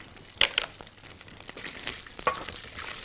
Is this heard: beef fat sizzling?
yes